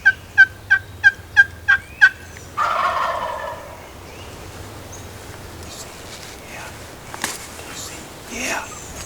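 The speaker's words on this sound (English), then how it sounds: "As I call to this gobbler, you can see his head pop up over the rise" A wild turkey gobbler gobbles six times in quick rhythmic succession, loud and fairly close, followed by a rustling burst and quieter faint calls and whispered talk afterward.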